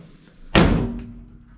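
The door of a Chevrolet C10 pickup being restored with new floors, rockers and cab corners shuts with a single solid metallic thunk that rings briefly and then fades, heard alone without talk.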